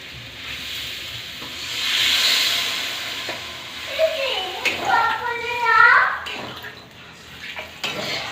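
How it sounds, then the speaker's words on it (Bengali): Water poured into a hot pan of fried taro for a shoal fish curry hisses and sizzles, rising in bursts of steam and bubbling, with a voice talking partway through. "এবারে পরিমাণ মতো জল দিয়ে দেবো।"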